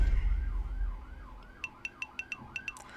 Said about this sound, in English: If you can hear the sirens, don't worry about it.